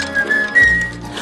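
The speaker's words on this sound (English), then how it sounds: "And all you have to do is whistle" Whistling in a song from the 1997 film Mrs. Santa Claus, a few clear sustained whistled notes rising over soft musical accompaniment.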